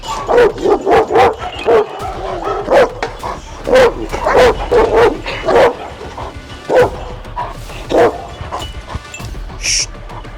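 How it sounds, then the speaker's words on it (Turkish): A large Anatolian shepherd dog barks aggressively and repeatedly in bursts of deep, loud woofs, close by, with brief pauses between volleys. "Yavaş yavaş az önce bana havlayan, agresif tavırlar gösteren Artemex isimli devasa Anadolu çoban köpeğini"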